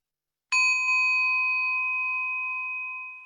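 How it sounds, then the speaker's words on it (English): A single bell struck during a shared prayer rings out clearly and alone, its bright tone sustaining and slowly fading over about three seconds. "as I ring the bell"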